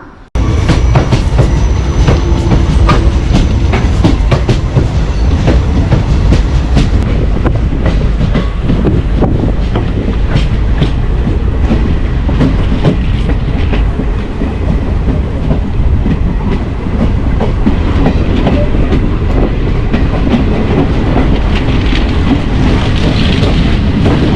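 The Kayamkulam–Ernakulam unreserved express passenger train arrives at a platform. Loud, continuous rumble and clatter of the wheels on the rails fills the whole stretch, close by, with no talking.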